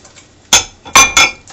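Sugar and eggs going into a big bowl for zucchini bread: three sharp, close clinks and knocks, likely eggshell against the bowl, spaced out with quiet between them.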